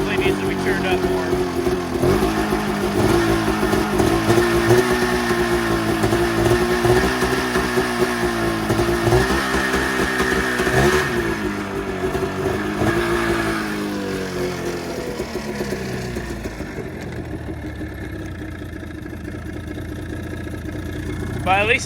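A Mountain Cat engine revs unevenly with rising and falling pitch, then settles into a lower, rough idle that runs on loudly and close by.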